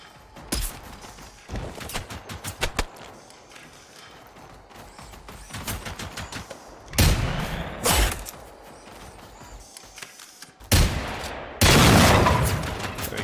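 Gunfire in the video game Generation Zero, with several sharp bursts of rapid shots and single loud reports spread across the stretch, broken by quieter mechanical clatter between volleys.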